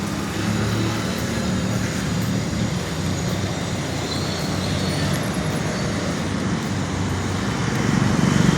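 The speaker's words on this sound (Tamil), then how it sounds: "டிராஃபிக்கை ஜாம் பண்ணிட்டு இருக்கு ஜல்லிக்கட்டு பாலுக்கு." Steady, dense rumble of jammed road traffic, with engines idling and creeping close by and continuous without a break, rising slightly at the end; no voices.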